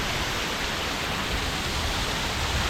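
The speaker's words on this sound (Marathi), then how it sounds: "परत आपल्याला धबधबा दिसून आला." A waterfall at Harishchandragad fort in the Sahyadri hills makes a dense, steady roar of falling water, loud and unbroken for the whole moment, with no voices.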